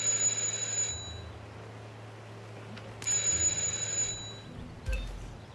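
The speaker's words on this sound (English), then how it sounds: "All right, just ring the doorbell." In the video game Hitman 2, a doorbell rings twice, each a bright sustained electronic chime lasting about a second, a few seconds apart, with a faint short ring near the end over quiet ambience.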